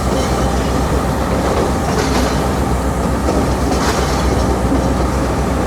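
A train in Sri Lanka rolls past close by, a loud, continuous rumble with rhythmic clickety-clack of wheels on rails and a faint squeal, with no voices.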